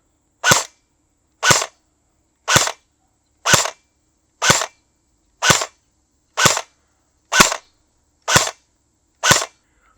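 Ten evenly spaced sharp shots from an AK Bizon 2 PP19 airsoft gun on a 7.4 V battery, each a crisp single crack about one second apart, loud and close with silence between.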